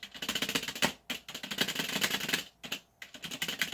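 Typing on a Redragon K551 mechanical keyboard: dense, rapid clacking of keys close up, with a few brief pauses between bursts and no talking.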